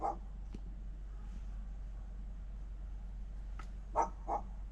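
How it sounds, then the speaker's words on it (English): A big dog barks outside an open window: a few short, faint, distant woofs, with a close pair near the end over a steady low hum. "That's a big dog with an open window."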